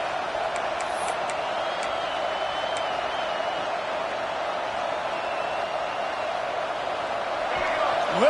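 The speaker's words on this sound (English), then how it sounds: "Listen to this crowd just shaking the girders of this place, trying to help their defense." A football stadium crowd roars steadily in a dense, sustained wash of cheering to rally the defense, with a sharp whoop rising near the end.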